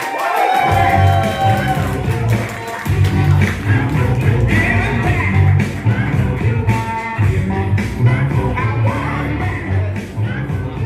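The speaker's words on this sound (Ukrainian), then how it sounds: "зустрічайте бурними оваціями Мирошниченко Владислав" A stand-up comedy audience bursts into loud, sustained cheering, yelling and whooping with applause, a dense crowd roar that carries on throughout.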